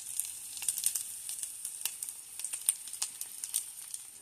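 Plant-based oatmeal sausage patties frying in a pan, a steady bright sizzle with frequent crackling pops throughout, close and continuous.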